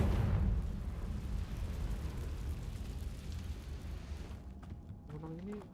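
A Confringo blasting spell explodes in Hogwarts Legacy, a loud low rumbling burst at the start that decays into a long noisy roar, with a brief voice near the end.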